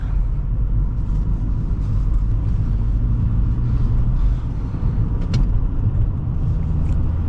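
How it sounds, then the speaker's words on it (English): A steady low engine rumble and road noise from inside a moving 2008 Nissan Altima 2.5 S sedan with six-speed manual, continuous and fairly loud with no voices. "I really like the way this Altima drives"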